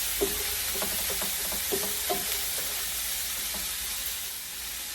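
Pork sizzles in hot oil in a pan for pancit sotanghon, a steady bright frying hiss with a few scattered stirring clicks and no voices.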